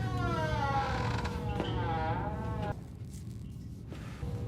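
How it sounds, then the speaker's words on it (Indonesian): A door swings open on its own with a long, groaning creak that wavers in pitch, loud and close, before cutting off into a low steady hum. "dia mendengar suara pintu yang terbuka dengan sendirinya"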